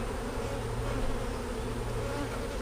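Dense, steady buzzing of many honey bees, a constant droning hum close by with no voices.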